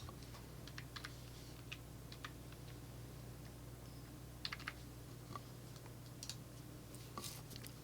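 A verification code being typed on a computer keyboard, heard as soft, quiet key taps in short irregular clusters over a steady low hum, with no voices.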